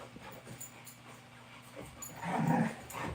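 Dogs whining and whimpering softly nearby, growing a little louder toward the end, with faint panting and shuffling.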